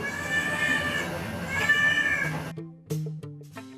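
A mother stray cat calls her kittens with long, drawn-out meows that trail into a low trill, loud and close, followed by a few shorter chirping calls.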